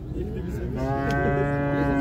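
A calf at a cattle market gives one long, loud, close moo with a rising, drawn-out tone over a low murmur of market background.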